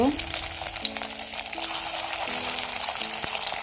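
Pieces of semolina sweet frying in hot oil, a busy bubbling sizzle with occasional pops and clinks, close and steady, no speech.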